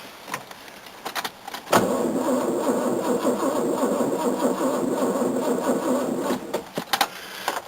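An old Datsun car engine cranks in the cold, its starter grinding steadily for several seconds after a sharp click, then cutting off into scattered clicks and rattles.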